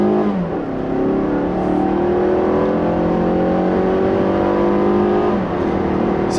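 Strong, steady engine roar from a 2016 Mazda3 GT hatchback with a big four-cylinder, climbing in pitch as the front-drive car accelerates hard, with front tires burning out. The sound is loud and continuous, with no voices.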